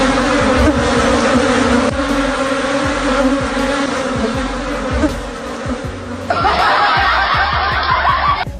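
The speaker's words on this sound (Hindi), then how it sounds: "कुछ नहीं मिला तो ये महाराज इस मधुमक्खी के छत्ते में उंगली करने पहुंच गए।" A swarm of bees from a beehive poked by a monkey buzzes as a loud, dense drone from start to finish, with a sharper, brighter swell near the end and snickering laughter mixed in.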